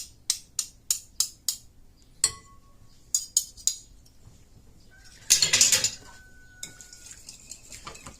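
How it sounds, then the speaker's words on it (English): Salmon seasoning is mixed in a bowl, with a utensil clinking sharply against the dish in quick repeated taps, then a brief burst of scraping and stirring followed by lighter clatter, loud and close with no talking. "Go ahead and mix in the bowl."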